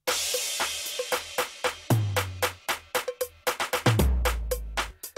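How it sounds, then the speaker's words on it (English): Drum machine tom hits recreating the sound of a song, sharp punchy strikes over a steady electronic beat, with deep descending tom notes landing in two fills, loud and alone. "Next we have the toms that sound like this."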